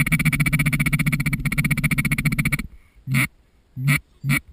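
A rapid, continuous chorus of loud quacking from several ducks, then a few separate quacks after it breaks off.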